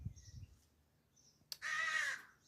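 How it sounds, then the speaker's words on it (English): A single loud, close crow caw bursts out in a garden, a harsh drawn-out call lasting about half a second after a stretch of near quiet and faint background chirps. "Hush up, crow."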